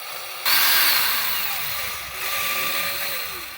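A power drill bores a small rivet hole for a rally-style mudflap on a Land Rover Defender L663, starting abruptly with a loud, steady whine whose pitch drifts and sags as the bit works through, heard close and alone.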